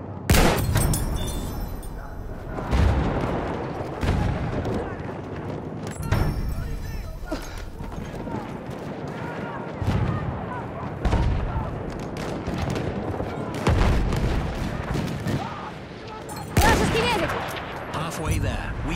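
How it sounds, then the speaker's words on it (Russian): Bursts of German machine gun fire in Battlefield 1 rattle through a busy battlefield mix, repeated volleys with booms and distant shots, while players talk over the noise. "Немецкий пулемет!"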